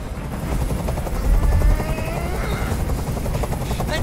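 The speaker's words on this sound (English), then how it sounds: "Tell that helicopter to get out of here." A helicopter in the video game Detroit: Become Human, its rotor beating in a steady rapid chop with a rising whine, loud and close, swelling slightly midway.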